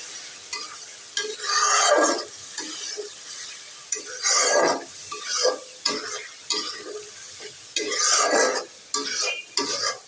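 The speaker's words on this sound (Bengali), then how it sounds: "চিংড়ি মাছটা মশলার সঙ্গে সুন্দর করে কষিয়ে নিচ্ছি" Prawns stir-fried with spices in a pan, with a sizzling sound punctuated by repeated scraping strokes of a spoon, loud and close in uneven bursts.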